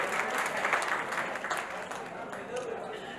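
An audience gives loud applause for a young couple at a charity camp in Mumbai, a dense, sustained wash of many hands clapping that stays strong and only eases slightly over three seconds.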